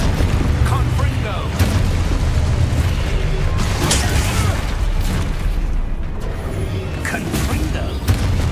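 Explosive spell blasts in the fantasy video game Hogwarts Legacy, a string of booming bursts and pops scattered across dense combat noise, with a player talking throughout.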